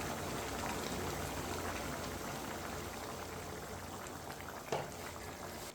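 Water boils in a pot of eggplant on a stove, a steady close bubbling and hissing that holds at an even level throughout, with one brief louder pop near the end.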